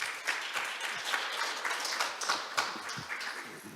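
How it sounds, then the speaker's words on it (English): Audience applause welcoming a speaker at a carbon neutrality conference session, a moderately quiet, continuous patter of many hands with occasional sharper individual claps, heard from across the hall. "please join me in welcoming him with a big round of applause"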